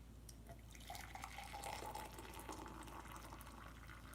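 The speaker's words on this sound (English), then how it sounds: "The sound of boiling water getting poured into a cup" Boiling water poured from a kettle into a cup indoors, a steady trickling pour building to a brighter rising fill over a few seconds, fairly quiet against a low room hum.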